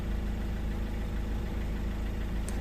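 A 2010 Ford Galaxy 2.0 TDCi diesel engine idles steadily with a smooth, continuous low rumble, heard close and alone, the car running fine despite an intermittent cutting-out fault.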